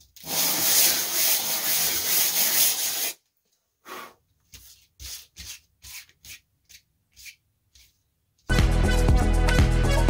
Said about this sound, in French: Vous prenez le papier à poncer qu'il faut. Pas trop fin parce que sinon vous allez mettre 10 ans à tout poncer.